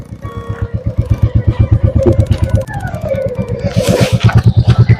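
A Royal Enfield 350 motorcycle pulls away in first gear under a learner rider, its loud single-cylinder thump pulsing in a rapid even beat close by. The revs climb gradually as the throttle opens.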